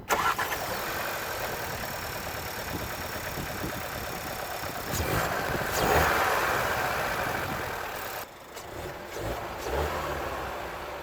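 Seat Arona FR with a 150 hp 1.5 TSI petrol engine cranks and fires up, then settles into a steady idle with a brief rev rising and falling, heard from close by.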